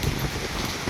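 Steady rain falls outdoors during a typhoon on a fishing outing, a dense broadband hiss of drops with some wind, continuous and fairly loud throughout.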